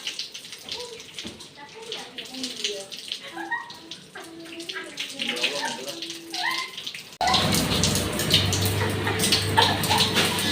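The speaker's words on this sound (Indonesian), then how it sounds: "Tidak mematikan keran air setelah digunakan." Water runs from an open tap into a basin, trickling and splashing steadily for about seven seconds before turning into a louder, fuller gush.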